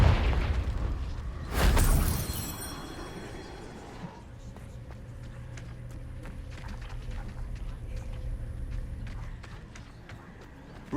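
A Confringo fire-blast spell from the Hogwarts Legacy video game bursts once as a loud, close explosion, followed by a quieter rumbling ambience and faint scattered game sounds.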